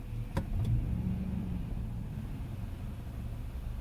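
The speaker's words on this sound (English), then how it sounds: "I'm not sure if it's exhaust related or something else from the truck running poorly at idle." A truck idles roughly with a misfire and a loose rattle up front, a steady low rumble with a couple of sharp knocks near the start, recorded close and without talk.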